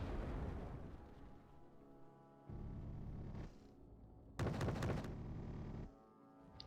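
Centurion tanks firing in Wargame Red Dragon produce a few blunt, booming shots and bursts, separated by quieter stretches of low rumble, fairly faint overall and with no speech.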